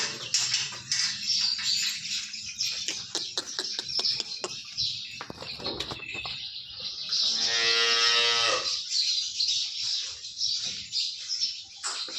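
A heavily pregnant cow, days from calving, gives a long, loud moo in the middle, with birds chirping around it and scattered rustling and knocks nearby.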